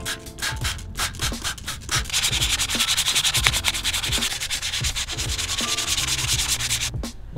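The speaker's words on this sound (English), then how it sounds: "Got some 400 grit sandpaper right here. Just a bit of a wet sand and prepping it for paint." Steady back-and-forth strokes of 400 grit sandpaper wet sanding windshield wiper arms before painting, a close, rhythmic scratchy rubbing that keeps an even pace throughout.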